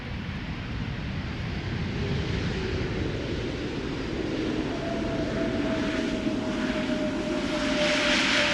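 An inbound airliner on approach to land at Amsterdam Schiphol Airport in high humidity, a loud sustained jet engine roar with a rising whine as it passes close overhead, building steadily with no voices.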